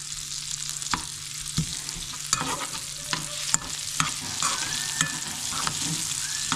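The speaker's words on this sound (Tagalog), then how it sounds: "nagigisa akong gulay yan ng bacon tsaka bawang" Vegetables sautéing with bacon and garlic in a pan, a steady soft sizzle with occasional sharp clinks and scrapes of stirring, close and moderately quiet, with no talking.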